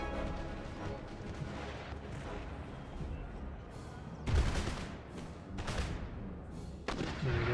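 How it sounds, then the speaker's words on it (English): Musket and rifle fire on an Empire Total War battlefield, a distant crackling fusillade rolling on steadily, broken by several louder, closer volleys near the end. "We're starting to engage them with our own musket fire"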